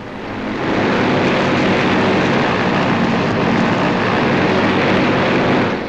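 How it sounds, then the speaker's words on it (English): A Vertol 76 tilt-wing aircraft in flight during tests in Pennsylvania, a loud, dense propeller and engine roar that holds steady throughout with no talk. "They call it the Vertol 76, and having reached the required altitude, it can now fly like an ordinary fixed-wing plane."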